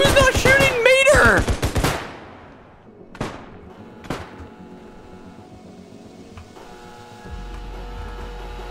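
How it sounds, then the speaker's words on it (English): Gunfire in a realistic zombies video game: a short burst of rapid automatic shots at the start, then two isolated sharp shots, leaving a quiet background hum. "Who's not shooting Mater?"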